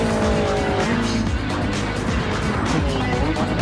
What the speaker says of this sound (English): Very aggressive braking from the 930